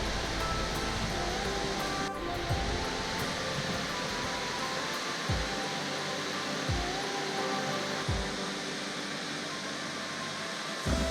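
A waterfall at Barron Gorge roars as a steady, broad rushing wash of water that stays constant throughout, with a few soft low thumps underneath.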